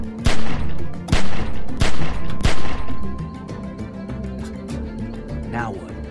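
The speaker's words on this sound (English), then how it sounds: "As soon as you start shooting" Gunfire in The Walking Dead 400 Days video game: several loud sharp shots in quick succession with background game sounds, over someone talking.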